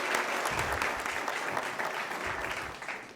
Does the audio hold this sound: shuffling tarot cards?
no